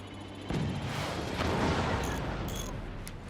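Cannon fire in the video game Forts: a sudden loud blast at the start gives way to a dense, rumbling barrage of overlapping shots that rolls on without pause.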